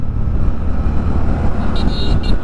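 A car engine held at full throttle while driving at around 80 km/h, a loud continuous low drone with wind and road rumble, close to the microphone.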